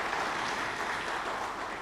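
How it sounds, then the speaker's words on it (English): Audience applause in a lecture hall after thanks to an organizer at a policy lecture on climate action, a steady wash of hands clapping that holds at even level throughout. "Let's clap for him."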